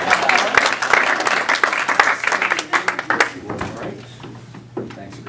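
At a mentalism show, the crowd breaks into loud applause, dense clapping that thins after about three seconds into scattered claps and murmuring, with voices talking beneath and a low hum.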